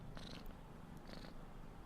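A stray cat purrs softly and close, a quiet steady rumble with a couple of faint breathy swells.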